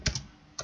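Two quick clusters of key taps on a computer keyboard while typing a command, close and fairly quiet with a brief pause between them.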